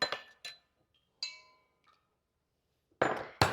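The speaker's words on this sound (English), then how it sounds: "we're going to go ahead and crack our eggs, add them" Eggs cracked against a hard edge and dropped into cake batter for a pineapple skillet cake: a few sharp, close clinks and taps spaced apart, with quiet gaps between them.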